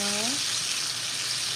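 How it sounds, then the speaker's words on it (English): A sirloin steak sizzles in a hot pan with a loud, steady, continuous hiss, and a short vocal sound is heard at the very start. "You can hear that sizzle happening right when we put it down"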